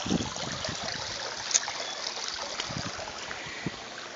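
Steady water trickling and splashing from a small waterfall at a pool, a continuous soft broadband wash with small irregular drips, fairly close and uninterrupted.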